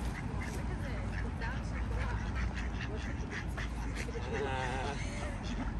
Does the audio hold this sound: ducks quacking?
yes